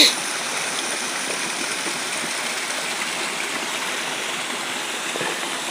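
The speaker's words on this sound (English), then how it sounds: "You can see this beautiful stream flowing past the main gate of the park." A stream flows past the main gate of Itanagar Biological Park, giving a steady, moderately loud rush of running water throughout.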